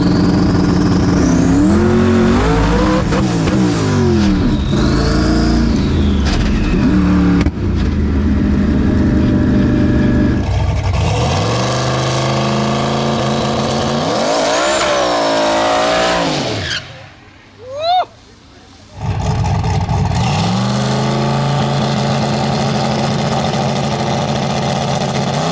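Race car at full throttle, loud and close, climbing through the gears with rising engine pitch, a brief drop near the end where a shift seems missed, then the high-horsepower engine roars on again.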